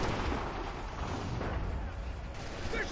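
Artillery shelling in Assassin's Creed 3 Remastered: a dense, continuous roar of distant cannon fire and rumbling blasts runs steadily throughout at moderate level, with no clear gaps.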